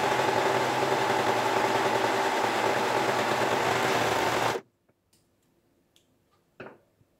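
A Pfaff 1450OL Element overlock serger sews a two-thread rolled hem on linen. It gives a loud, steady, dense whir for about four and a half seconds, then stops abruptly, leaving only a few faint clicks.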